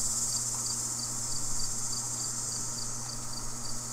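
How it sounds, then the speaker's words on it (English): Cicadas and insects in the video game Dread Out 2 buzz with a continuous, shrill, pulsing drone over a steady low hum, the whole scene quiet and even, with no voices. "He likes cicadas or something?"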